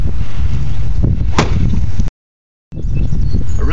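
One sharp, slapping impact of a golf club hitting roof shingles stands out over loud wind-buffeted outdoor noise, then a short silent gap before the rumble returns.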